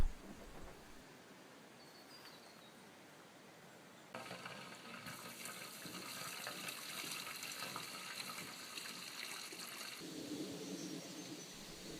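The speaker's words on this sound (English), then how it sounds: "The kitchen sink waste comes out of the white pipe and goes into the tub." A soft, steady trickle of kitchen sink grey water pours from a pipe into a tub, growing louder and fuller partway through and continuing as an even, close rushing flow.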